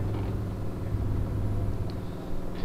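A Mercedes 1519 truck engine in Euro Truck Simulator 2 drones low and heavy as it pulls and accelerates, a steady close rumble with little change in pitch over a few seconds and no voices.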